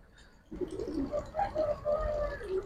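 Pigeons of the Giribaz and related breeds coo repeatedly at a bird seller's stall, soft throaty calls rolling close and continuous after a brief quiet start.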